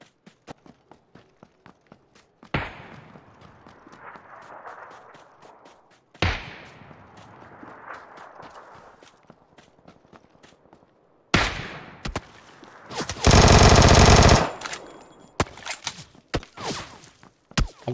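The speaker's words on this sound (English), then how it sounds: "there's a VSS shooting at me" VSS rifle fire in PUBG on the Miramar map: sharp cracking shots and scattered impacts, with one loud sustained burst partway through, broken up by quieter gaps.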